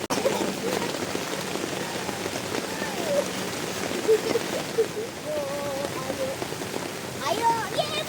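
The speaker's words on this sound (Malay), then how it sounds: "Hujan pula, hujan sikit-sikit je." Light rain falling at a campsite at Payat Campsite, Batu Kurau, a steady close patter on surfaces throughout, with people talking faintly underneath.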